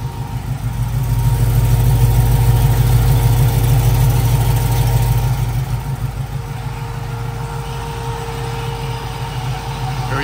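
A 1967 Chevrolet Camaro with an LS engine idles steadily and close by, with a loud, deep rumble that swells slightly in the first half before settling to an even burble.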